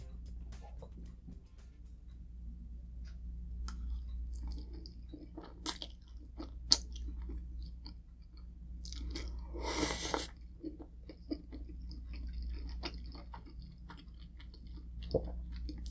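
Someone chews Cheesecake Factory fettuccine Alfredo, a creamy pasta of broad flat noodles. Soft, wet chewing and occasional bites come through close to the mic over a steady low hum, with a louder crunchy burst midway.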